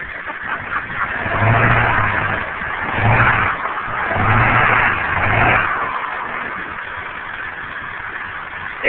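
A big 4x4 truck engine revs in several surging bursts over a rumbling idle, loud and close, then settles back to a steady idle.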